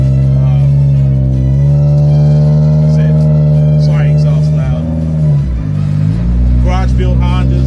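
A small Honda Civic drives along with a steady low engine drone and hum from inside the car, while someone talks over it throughout.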